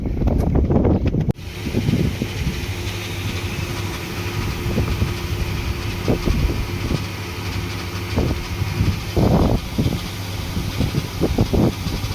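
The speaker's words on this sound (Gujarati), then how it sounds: "આ ટ્રેક્ટર આપણું નવરું થઈ ગયું" A farm tractor engine runs steadily at a low idle, a continuous droning hum with wind buffeting the microphone at the start and a few louder knocks and thumps scattered over it.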